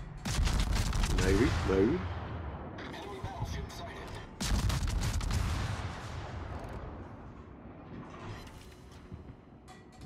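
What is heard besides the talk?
warship guns firing in World of Warships video game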